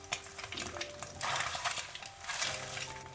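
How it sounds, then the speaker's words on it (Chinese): Metal spatula chopping and scraping a fried egg into small pieces in a hot pan for tofu soup, with repeated scrapes and taps over a steady sizzle, close and fairly loud, no talk. "鸡蛋煎好之后，用铲子将鸡蛋铲成小一点的块儿"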